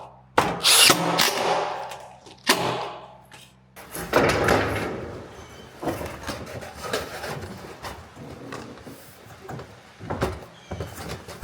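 Impact driver sinking screws into the wood panels of an 8-foot panoramic barrel sauna during installation, with several bursts of whirring and rattling among knocks and handling of boards, close by, with no voices.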